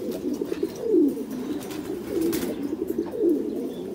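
A breeding pair of pigeons on a farm, fed bran and corn, coo in low, throaty, repeated calls over a soft, steady background murmur, close to the microphone with no talking.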